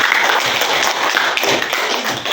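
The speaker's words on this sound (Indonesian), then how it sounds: "Berarti kalau udah bagus beri tepuk tangan di kelompok" Classroom of students clapping for a group presentation, a dense burst of steady applause filling the short moment without any talk.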